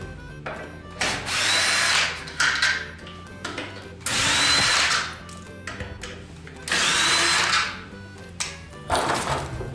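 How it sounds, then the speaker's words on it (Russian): A cordless screwdriver backs self-tapping screws out of a plastering rule on a window reveal in four loud whirring bursts of a second or so each, with small clicks and handling noises between them. "Берем шуруповерт и откручиваем саморезом."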